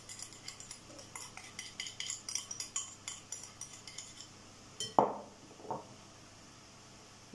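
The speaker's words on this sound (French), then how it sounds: "Je vais mélanger la crème fraîche épaisse avec le lait et le poivre." A utensil stirs thick crème fraîche with milk and pepper in a bowl, making rhythmic light clinks and scrapes, then one sharper knock followed by a couple of softer taps.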